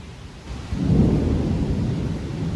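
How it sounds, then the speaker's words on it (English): Heavy rain drums on a metal roof, a loud, dense roar that swells after a quieter opening and keeps pounding steadily with no talk. "this video is about to get noisy as hell because metal roof and heavy rain don't mix together too well"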